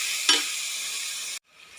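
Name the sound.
onion frying in hot oil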